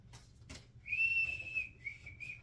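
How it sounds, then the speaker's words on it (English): A person whistles a few short, clear high notes, one held longer than the rest, faint and alone against a quiet background. "I can whistle."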